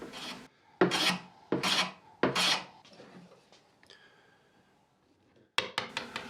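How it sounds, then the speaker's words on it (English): A traditional hand tool chamfers the underside edge of a wooden serving board in four quick, rasping strokes, then pauses before a fifth. The scraping is close and crisp, with no talk. "Finally, it's time to put a chamfer on the underside of each board."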